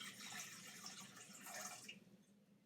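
Water is poured from a measuring cup into a bowl to make an angel food cake mix. It makes a short, close, steady splashing stream that tapers off after about two seconds, with no voices.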